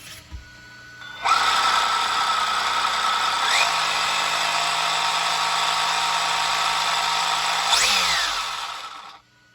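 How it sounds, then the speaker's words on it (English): Brushless drivetrain of an Arrma Infraction 4x4 1/8 scale RC car with a Castle Creations Copperhead 10 system winds up into a loud, steady high-pitched whine, close by, holding for about seven seconds and then spinning down, with no talking. "It is not the quietest drivetrain I've ever heard."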